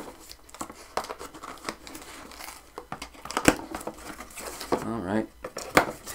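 Scissors snip and crinkle through plastic packaging around an R.G. Hardie Infinity B-flat pipe chanter, with close irregular cuts, rustling and crackling, and a voice talking briefly partway through.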